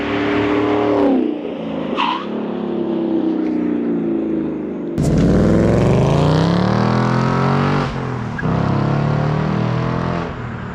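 A Ford Mustang fitted with an upgraded exhaust drives through the gears in fourth, its deep, loud engine note rising and falling through several surges of acceleration, with no voices.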